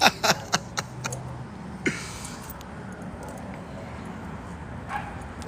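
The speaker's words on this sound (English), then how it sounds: "It's always the little ones that you can step on that want to bark at you." A small dog on a New Orleans street yips and barks in a few sharp bursts near the start, with one more yelp around two seconds, then falls quiet against steady outdoor street noise.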